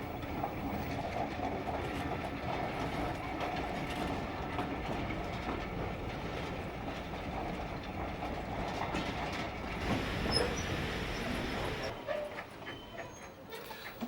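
A steam train headed by a Black 5 locomotive rumbles steadily through a station at speed, with continuous rolling rail noise and a faint rhythmic clatter, fairly distant, a dog barking briefly somewhere.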